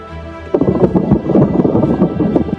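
A thunderstorm sound effect breaks in after a quiet half second, rolling loud thunder with crackling bursts and a rain-like wash that keeps rumbling to the end.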